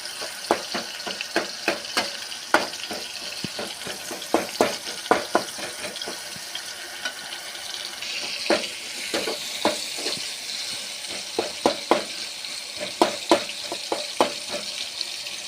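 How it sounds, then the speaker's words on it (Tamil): Snake gourd seeds frying in oil in a pan, a steady hissing sizzle with irregular clicks and scraping taps as they are stirred. "இந்த விதை வந்து அந்த எண்ணெயிலே பொரியணும்"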